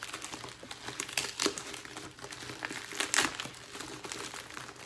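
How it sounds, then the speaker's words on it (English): Someone opens a package box shipped from China, with faint, close crinkling and tearing of wrapping in irregular bursts and rustles. "So we'll just open it up and check it out."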